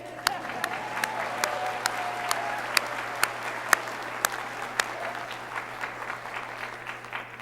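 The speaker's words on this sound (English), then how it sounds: "Please join me in welcoming, you can clap for that, yes." Applause from the audience at a South Texas College of Law hooding ceremony, a thin, sparse patter of individual claps in a large hall with a steady background hum.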